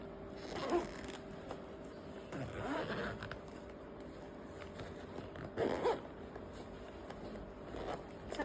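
A zipper on a students' school lunch bag is pulled open in a few scratchy bursts at close range, with soft handling noises and quiet gaps between pulls.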